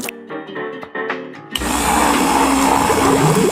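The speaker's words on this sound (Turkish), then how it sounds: "Tüm bunları iyice karıştırırım." Cheerful tonal notes give way abruptly to a loud blender whirring a drink with cotton candy water, a steady buzzing roar running close and constant to the end.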